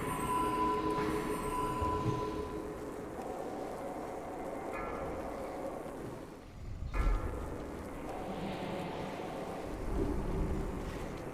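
Thunderclap ability going off during a World of Warcraft raid in Sunwell Plateau: a deep booming rumble swells midway through a continuous, noisy din of battle effects.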